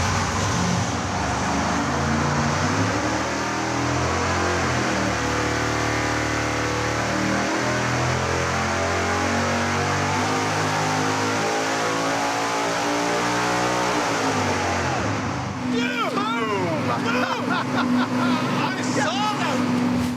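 A supercharged, nitrous-fed big block Chevy engine roars steadily at high load on a dyno, loud and continuous, its pitch climbing before dropping off near the end, with voices heard faintly over it.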